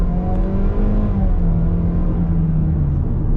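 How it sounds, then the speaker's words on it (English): A 2025 Toyota Corolla LE engine pulls steadily from about 5 to 40 mph, a loud, continuous rising drone with a smooth, even tone and road rumble underneath, close and without talk. "I'll give it a little bit of an acceleration test here."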